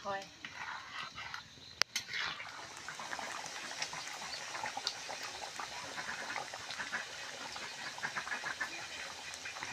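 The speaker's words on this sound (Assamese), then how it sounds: "এতিয়া অলপ উতলিবলৈ দিবা ন" A pot of village-style fish curry with jalphai (olive) sour comes to a boil, giving a steady close bubbling and simmering hiss with a sharp knock near the start, while a person talks over it.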